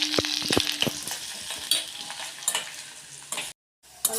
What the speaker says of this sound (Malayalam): അപ്പം നമ്മുടെ ചെറിയുള്ളി ഒക്കെ ഒന്ന് മൂത്ത് വരുന്നതേ ഉള്ളൂ